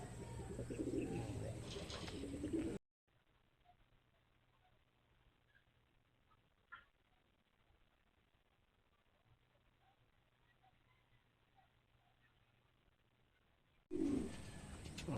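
Soft low cooing of racing pigeons in bursts as they return during a race, with faint rustling and brief clicks in between; louder, busier outdoor noise at the start and end.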